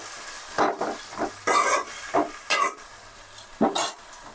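Chopped tomatoes are stirred into golden fried onions in a pan for a Telugu dried-fish tamarind curry. A handful of separate scraping strokes stand out loud and close over a low sizzle, with short pauses between them.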